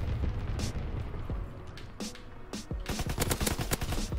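Rapid automatic fire from a fast-shooting grease gun in Call of Duty, with scattered shots early, then a dense burst of quick cracks near the end, loud and close.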